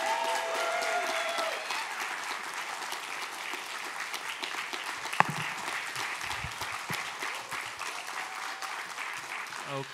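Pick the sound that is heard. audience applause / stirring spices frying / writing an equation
audience applause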